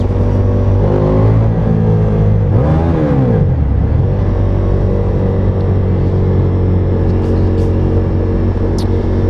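V4 muscle cruiser motorcycle pulling hard in second gear on the autobahn, a loud close engine roar that rises in pitch as it accelerates, dips briefly, then holds a strong steady drone with wind rush.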